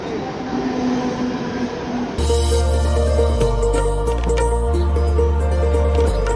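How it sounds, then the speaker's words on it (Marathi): A train pulls into Thane railway station on a Monday morning: after a steady platform hum, a loud, close rumble of heavy wagons rolls in with deep low tones and rhythmic clattering, filling the rest of the clip. "ते ट्रेन बघू कधी येते आता."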